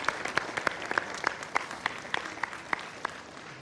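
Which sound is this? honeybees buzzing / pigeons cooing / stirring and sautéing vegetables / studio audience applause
studio audience applause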